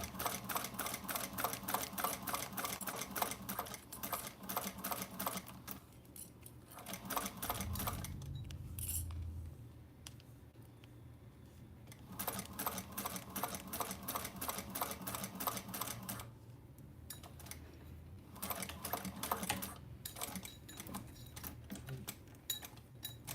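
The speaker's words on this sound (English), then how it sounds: "I'm just going to stitch down the folded edge" A sewing machine stitches down a folded fabric edge and back-stitches, running in steady rapid bursts with brief pauses between, close and fairly quiet, with no voices.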